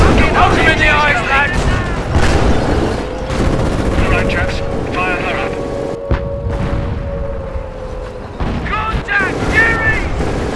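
Gunfire in Company of Heroes during urban fighting in Caen in 1944, sharp rifle and machine-gun shots and bursts crackling continuously beneath shouting soldiers' voices and battle noise.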